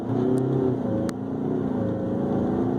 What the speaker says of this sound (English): evidently it has active exhaust because it really opened up the exhaust